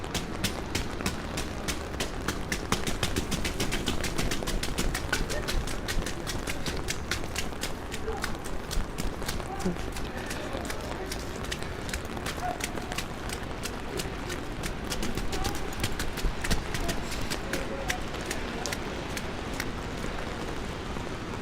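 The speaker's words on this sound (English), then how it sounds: "Or maybe I could do the footsteps faster." Quick footsteps crunch through snow on a New York City street in winter, a dense steady stream of steps under constant city ambience, close to the microphone.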